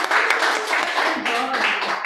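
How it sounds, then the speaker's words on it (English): A crowd at a Toastmasters club meeting gives a brief round of dense, continuous clapping, with a faint voice mixed in. "So let's give a round of applause to Miss Chappie."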